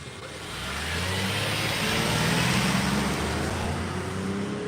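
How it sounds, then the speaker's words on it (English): A car engine rumbles steadily nearby for several seconds, rising slightly as it passes, with no talk over it. "I knew that the car's gonna come back."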